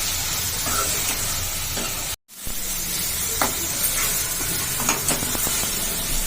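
Tomatoes with ginger garlic paste bubble and sizzle steadily in a pan while a ladle stirs them, with scraping and light knocks. The sound cuts out briefly partway through, then the cooking carries on.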